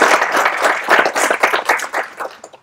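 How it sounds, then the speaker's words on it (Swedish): Applause from a seminar audience on the future energy system, a short burst of brisk clapping that rises and falls and tapers off within a few seconds. "En applåd."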